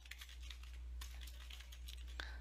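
Faint, irregular keystrokes tap on a computer keyboard in a quiet room, several soft clicks spread across a short burst of typing.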